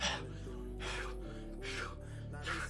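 A person imitates gasping for air, with several sharp, breathy inhalations repeated in a rough rhythm, close and fairly quiet.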